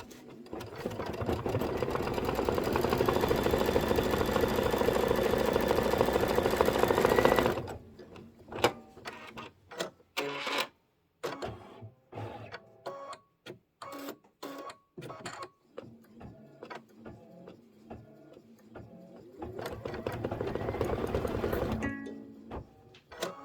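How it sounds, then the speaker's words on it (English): A computerized sewing machine runs decorative stitching on a quilted Kimberbell bench pillow block, first a loud, steady mechanical whir, then choppy stop-start stitching bursts, and a final sustained run before stopping. "I'm going to hit start and just let it do the decorative stitching."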